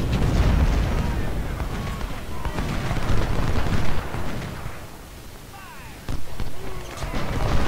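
Dense Civil War battle gunfire at Shiloh in Ultimate General: Civil War, a continuous roar of musket volleys and booming artillery, loud and rumbling throughout, with brief voices underneath.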